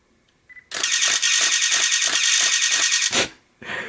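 A DSLR camera fired through a Neewer SmartGrip battery grip on a Nikon D7100/D7200 at 1/8000 second, giving a rapid, loud burst of about a dozen evenly spaced shutter clicks, then a short pause and another click.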